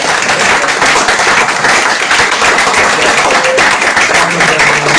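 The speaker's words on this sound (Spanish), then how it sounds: "voy a pedir un aplauso cerrado" A large audience at a literature talk claps steadily in dense, sustained applause that fills the whole stretch at high volume.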